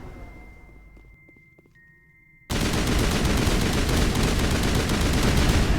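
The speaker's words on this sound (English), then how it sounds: "I'm shooting through the wall, what of it?" Sustained automatic gunfire in the Mass Effect game, shooting through a wall, bursting in loud and dense after a quiet stretch of faint tones and then holding as a steady rattling stream.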